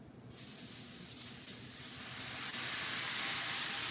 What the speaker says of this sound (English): let me swig some water in this pan behind me.